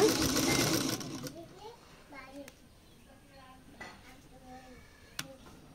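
Sewing machine stitching a garment sleeve, a brief whirring run at the start followed by someone talking quietly with faint clicks and handling sounds.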